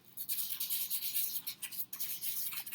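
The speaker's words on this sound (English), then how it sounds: "Now the 600, you're going to sand it for a while with this." Steady scratchy rubbing of 600 grit sandpaper against a metal surface, continuous back-and-forth strokes close up, with a brief pause near the end and no talking.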